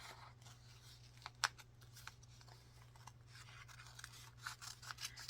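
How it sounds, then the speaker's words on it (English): Scissors cut out a piece of paper for a bullet journal, making faint, quiet snips and scratchy rustles in short irregular bursts over a low steady hum. "I'm going to cut this out"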